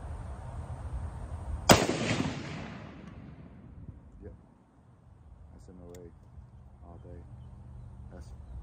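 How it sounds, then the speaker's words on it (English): A single sharp, loud rifle shot from a 300 Winchester Short Magnum cracks out and rings off into a decaying echo, followed by faint handling noises and light background sounds. "So I'm gonna shoot one more, make sure we're good"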